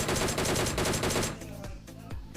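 Gunfire from a bot at a military base in a battle royale video game, a dense burst of rapid automatic shots that gives way to a few sparser, quieter shots.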